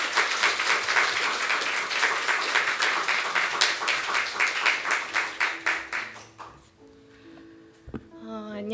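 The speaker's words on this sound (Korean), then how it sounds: "우리 박수로 모시겠습니다." A church congregation claps in brisk, rhythmic unison to welcome a children's ministry teacher to the front; the applause is steady and fairly close for about six seconds, then fades quickly into quiet room sounds.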